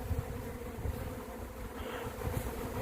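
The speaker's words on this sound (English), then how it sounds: "You guys can see all these bees pouring out of this box." A swarm of honey bees fills the air with a continuous, close droning buzz, steady in level with small flutters, heard alone without talk.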